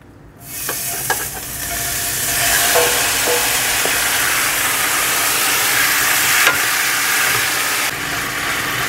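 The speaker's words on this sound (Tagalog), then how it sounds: "hintayin muna natin na uminit yung ating kawali bago natin ilagay yung ating pork belly" Pork belly sizzles and fries in a hot pan for Filipino pork pinakupsan, a loud, steady broadband hiss swelling right after the meat hits the oil, with a few faint clinks early on and no talking.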